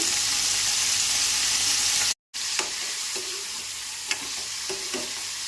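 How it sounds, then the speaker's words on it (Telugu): Paneer cubes lightly frying in a pan give a steady, close sizzle throughout, broken by a brief silent gap and a few soft stirring clicks afterward. "ఈ విధంగా పన్నీర్ లైట్గా ఫ్రై చేసుకోండి"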